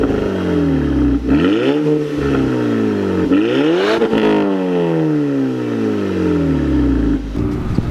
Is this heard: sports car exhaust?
yes